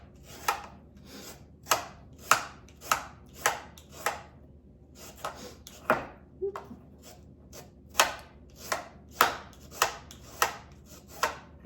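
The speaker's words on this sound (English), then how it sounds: "just slice them as thin as you can" A knife slices carrots thinly on a cutting board for homemade ramen, each cut landing as a sharp, close knock in a steady rhythm of about two strokes per second, with a brief gap midway.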